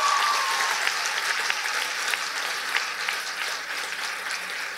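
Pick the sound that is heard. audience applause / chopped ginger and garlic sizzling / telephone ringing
audience applause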